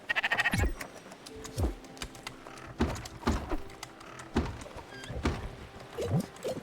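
Sheep bleating on a farm in the Spiritfarer video game, several short calls spaced a second or so apart over a quiet game backdrop, fairly close and moderately loud.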